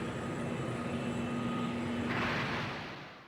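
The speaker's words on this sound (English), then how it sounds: "A jet core booster has just been spotted taking off from the runway." A jet core booster in a Gundam video game roars with a steady broadband engine rush that swells near the end and then fades away, with no talk over it.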